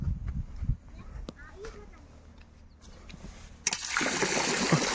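Water from an electric motor pump splashes into a tank on a farm, a sudden rushing gush that starts partway through after quieter clatter and talk.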